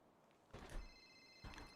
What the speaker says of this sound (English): Whose phone keeps ringing?